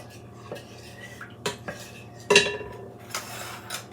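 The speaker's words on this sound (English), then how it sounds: "We're going to give this a little stir." A spoon stirs oil in a bowl for a bread dough, giving a few light scattered clinks and scrapes, with one sharper clatter near the middle, all fairly quiet in a calm kitchen.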